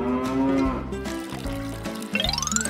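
Cattle lowing on a farm: several long, drawn-out moos, loud and close, one after another with no talk.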